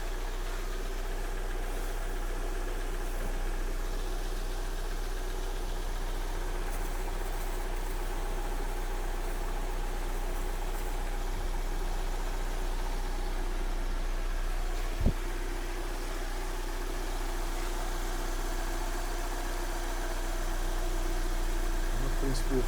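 A Kia Sportage 3 with a G4NA engine that knocks when cold idles steadily while warming up, a continuous low drone with faint ticking, recorded close in a workshop with one brief clank.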